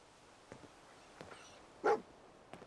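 Dogmeat, the dog companion in the game Fallout 4, gives a single short, fairly loud bark or whimper, with a few faint, brief yips and sniffs before and after it.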